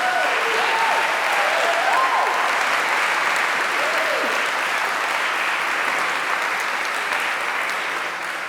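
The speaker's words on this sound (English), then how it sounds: "Please join me in a further round of applause to celebrate these outstanding students" Sustained applause from an audience celebrating award-winning students at the 2024 Dr Charles Perkins Oration, a dense, steady wash of clapping that holds at an even level throughout with no talk over it.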